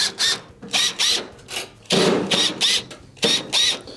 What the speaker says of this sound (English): you must go around the perimeter and remove the Phillips screws that are holding it on